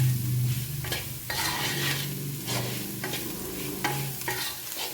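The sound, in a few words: sautéing garlic on low flame for garlic pickle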